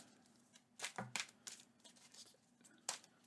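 Marvel Champions playing cards being loosely shuffled by hand, a series of quick close riffling and flicking bursts with short pauses between them, quiet and alone.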